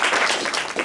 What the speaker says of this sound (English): I think we deserve a round of applause for this together.